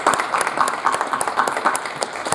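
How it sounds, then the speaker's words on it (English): Audience applause for a panel, a short burst of scattered hands clapping in a room, close and moderately loud, with faint voices mixed underneath. "Let's give them a round of applause"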